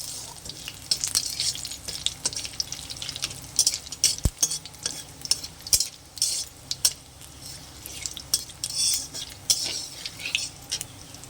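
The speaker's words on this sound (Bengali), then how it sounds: "জিরে, গোটা পানমৌরি আর শুকনো লঙ্কা ফোড়ন দিয়ে দেব। একটু লাল করে ভেজে নেব।" Whole cumin, fennel seeds and dried red chilies crackle and sizzle in hot oil as a tempering, with busy clinks and scrapes of a spoon stirring in the pan, no voices.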